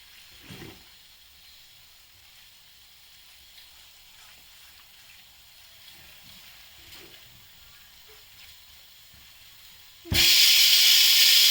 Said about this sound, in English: my cooker whistles are also done